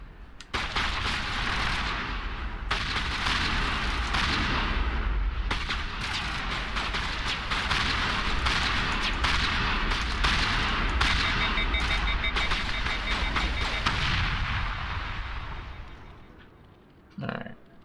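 Dense, continuous gunfire from the video game Mass Effect Legendary Edition, shotgun blasts mixed into a loud, sustained barrage of shots and impacts that runs almost without pause before cutting off near the end.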